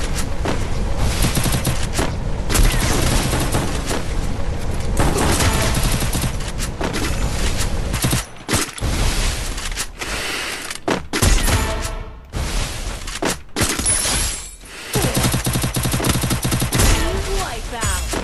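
Sniper rifle fire in a video game, heard as loud, dense bursts of shots and booms that come repeatedly over a busy, saturated game mix.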